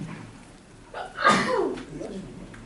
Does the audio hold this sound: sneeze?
yes